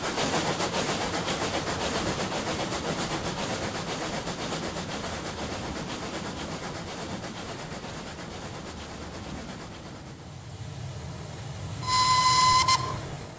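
A simulated LNER Y6 steam tram engine in Train Simulator runs with a steady rolling, chuffing rumble that eases off toward the end, followed by a short, loud, shrill whistle toot.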